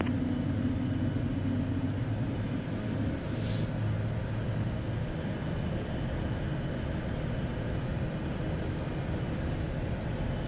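An Embraer 175 regional jet taking off from Chicago O'Hare Airport, a loud, steady, broadband engine roar and rumble heard close from inside, continuous throughout with no talk.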